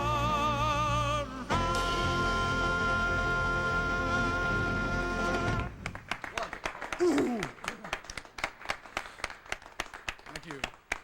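Studio audience at a TV variety show breaks into scattered applause after music ends, with clapping and some cheering.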